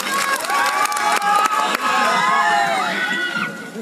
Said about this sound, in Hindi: तो एक बार जोरदार ताली अंकुश और राजा खाती बता दीजिए।